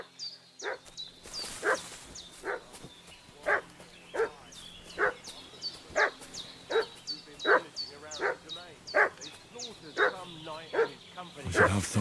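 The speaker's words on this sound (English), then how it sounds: "What's that dog making such a fuss about?" Dog barking repeatedly in a medieval village setting in Kingdom Come: Deliverance II, sharp regular barks about every half second to second, fairly close, over a quiet outdoor ambience with faint chirping birds.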